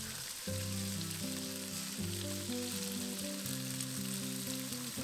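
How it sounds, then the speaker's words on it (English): Eggs cracked into a hot pan beside pork, frying with a steady sizzle that rises after a brief pause, partly under background music. "push the pork to one side of the pan and crack in 2 eggs"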